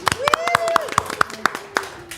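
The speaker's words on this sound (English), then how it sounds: "Round of applause." Scattered claps and brief applause rise from a comedy-show audience, close and irregular, with voices mixed in.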